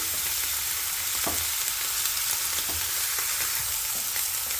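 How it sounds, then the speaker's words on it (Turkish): Beef pieces searing in a hot pan, a tender cut being browned on one side before turning: a loud, continuous sizzle with occasional utensil taps and stirring knocks, close up and with no talking. "Etlerimizin bir tarafı mühürlendi"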